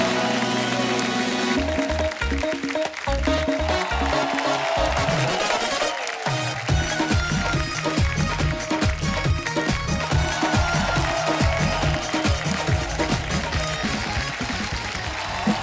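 A studio audience on The Kapil Sharma Show applauds loudly to welcome a guest, a sustained wash of clapping that swells early and carries on steadily, with music and cheering mixed in.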